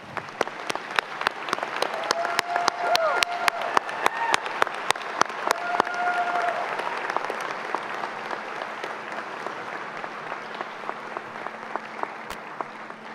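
A graduating class at a College of Liberal Arts commencement applauds in loud, sustained, dense clapping that swells over the first seconds and holds steady to the end, with scattered sharper claps standing out.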